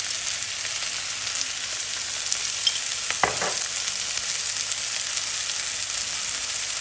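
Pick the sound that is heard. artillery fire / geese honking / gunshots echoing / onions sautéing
onions sautéing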